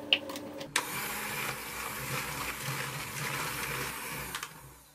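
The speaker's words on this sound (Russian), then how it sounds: "хорошо перетираем миксером пару минут" An electric hand mixer beats cake batter with eggs and a pinch of salt, a steady close whirring drone that runs almost without a break, starting just after a couple of short clicks.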